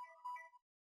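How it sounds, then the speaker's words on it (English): A mobile phone's ringtone sounds briefly and faintly, a short tonal chime that cuts off after about half a second. "that was my phone"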